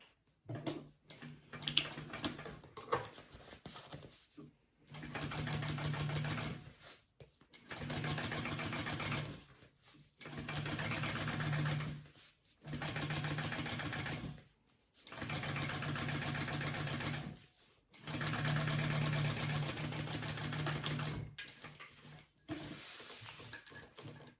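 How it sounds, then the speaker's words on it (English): A sewing machine runs in steady bursts as it topstitches along a bag lining, with its rapid mechanical whirr stopping and starting about half a dozen times, close and loud, with brief pauses between runs. "we want to top stitch along our lining, so our seam allowance is going down towards our lining"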